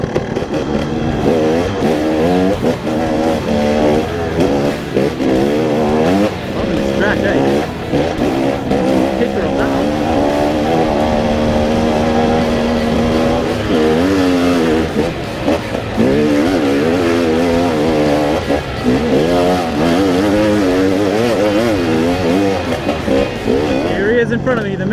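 A Yamaha WR motorcycle being ridden hard, its engine revving and changing pitch continuously across the whole stretch, loud and close, with wind and road noise mixed in and some talk underneath.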